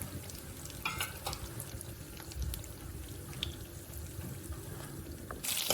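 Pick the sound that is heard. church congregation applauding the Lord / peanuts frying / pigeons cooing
peanuts frying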